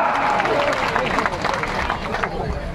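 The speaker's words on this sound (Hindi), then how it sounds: "सहमत हो तो जोश से ताली बजाओ।" A crowd claps at an outdoor political rally in Rahatgarh, Surkhi, where a politician is speaking. Broad clapping and crowd noise run under a loud amplified voice that keeps talking over it.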